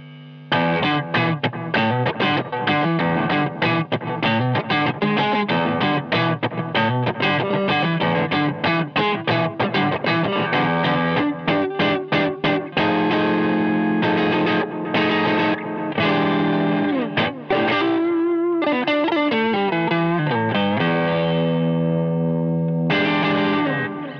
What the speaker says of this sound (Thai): คราวนี้ก็จะเป็นโอเวอร์ไดรฟ์เจ้าก้อนสีส้มนะครับผม